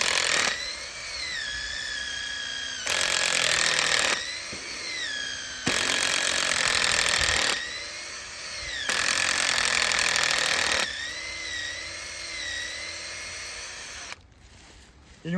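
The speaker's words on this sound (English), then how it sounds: "So I want to just drill right here." A power drill whines loudly in repeated bursts, revving up and easing off several times with strained pitch changes as it bores into a maple tree trunk for tapping, then stops.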